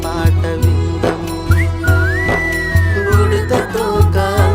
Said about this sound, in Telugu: ఈల పాట విందము